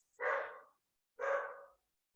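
Dogs bark on a street after a car passes blasting loud music, two separate, clear barks about a second apart, moderately distant, with silence between them and no talk.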